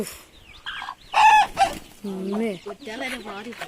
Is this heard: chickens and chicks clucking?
yes